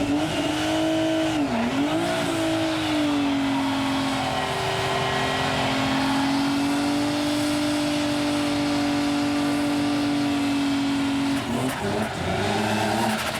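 Nissan Z race car built by Auto Select roaring loud and close at sustained high revs, the engine note dipping and climbing through gear changes with a faint tire squeal and no voices over it.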